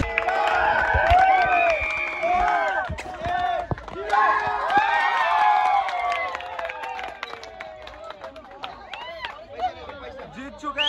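A dense crowd at Imagica water park fills the air with overlapping chatter, shouts and some cheering and clapping, loud and close, with voices talking throughout.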